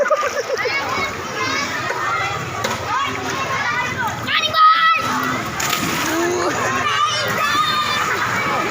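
A swimmer jumps into cold water at a swimming spot with a brief splash. Children and a crowd are talking and playing loudly around it.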